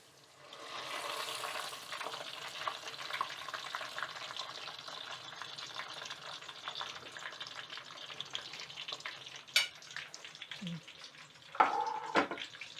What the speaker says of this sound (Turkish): Yağda kızartıyorum ama arkadaşlar hiç yağ çekmiyor bu.